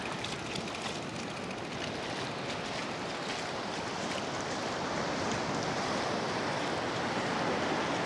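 Continuous broadband rush of rough surf washing onto a beach at Timalan, Naic, Cavite, steady and fairly distant, with some wind noise under an overcast sky.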